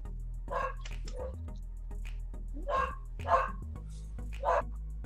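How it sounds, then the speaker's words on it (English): A dog barks in several sharp bursts, three or four loud woofs spread over a few seconds, close by in a quiet indoor room with a steady low hum underneath. "See, Bernie's barking"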